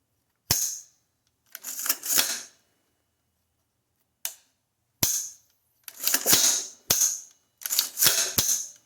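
Dry-fire function test of a fire-damaged AR rifle: sharp metallic clicks of the trigger and hammer, mixed with rattling and handling noises from the action, in short separate bursts with silent gaps, close and loud.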